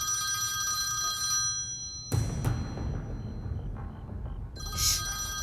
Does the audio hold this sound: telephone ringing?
yes